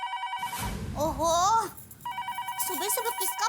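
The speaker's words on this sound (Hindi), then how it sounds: "सुबह सुबह किसका फोन आया है?" An electronic telephone ring sounds, pauses while a person speaks briefly, then the ring starts again, clear and close.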